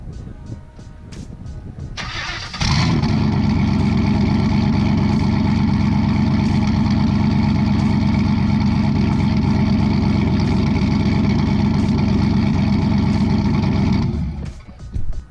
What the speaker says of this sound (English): Let me show you a little demonstration of the loudness of what this factory exhaust system sounds like